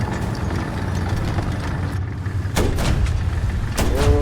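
A tank engine rumbling in the War Thunder video game, a steady low drone with mechanical clunks and a rising whine near the end.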